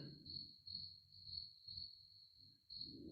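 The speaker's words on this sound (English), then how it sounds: "Hit that cricket sound, Mikey." A cricket chirping sound effect plays as a steady, high, pulsing trill of repeated chirps, faint and alone with a low rumble underneath.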